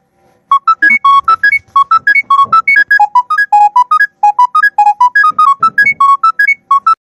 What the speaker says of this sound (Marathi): हो फोन आला ना